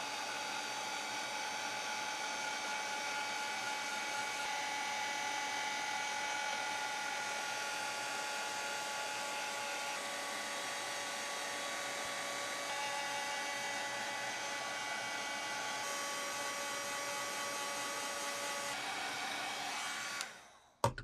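A heat embossing tool runs steadily while melting embossing powder, giving a constant high-pitched fan whine and blowing hiss. It holds close and even for about twenty seconds with no talking, then clicks off abruptly.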